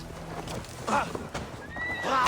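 A horse in Assassin's Creed Valhalla gives a loud, rising whinny near the end, after snorts and shuffling hoof sounds, with a voice talking over parts of it.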